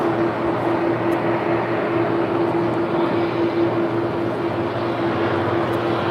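A former EVA Airways Boeing 747 at LAX, heard as a steady, loud jet roar with a constant whine, rumbling evenly for the whole stretch without breaks.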